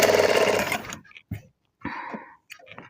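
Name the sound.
sewing machine stitching a blouse side seam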